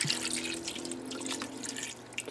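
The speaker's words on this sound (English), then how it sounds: "I think I'm going to add another quarter of a jar of sauce water." Water splashes and drips steadily into an Instant Pot holding bow tie pasta and sauce, a brief continuous pour heard up close.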